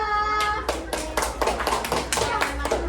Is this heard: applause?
yes